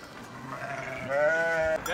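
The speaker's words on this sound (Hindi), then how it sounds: "अब इसकी भेड़ बकरियां घर की तरफ जा रही हैं" A herd of sheep and goats heading home near Naran, Pakistan, bleats with overlapping wavering cries. The calls swell louder toward the end over a steady outdoor background.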